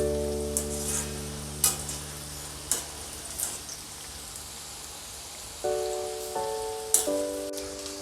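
Potato pieces deep-fry in hot oil over a high flame, giving a constant crackling sizzle with scattered pops and a steady tonal hum from the burner or kitchen fan.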